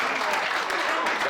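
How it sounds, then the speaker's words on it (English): An audience at an entrepreneur conference round table bursts into dense, steady applause, loud and close, filling the brief moment. "can we just clap for him?"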